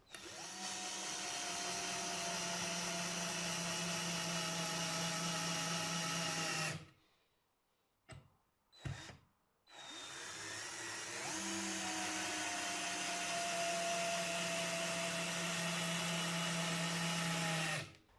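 A Parkside 12V cordless drill driver with a PZ2 bit drives a screw, its motor whining loud and close in two long runs separated by a short pause with brief bursts.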